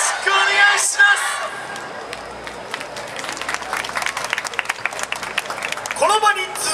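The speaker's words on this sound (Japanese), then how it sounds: "5000円手拍子よろしくお願いします" Crowd at a yosakoi dance festival claps along in a steady rhythm, bursts of applause and crowd noise swelling near the end, with a loud voice and cheering over the clapping.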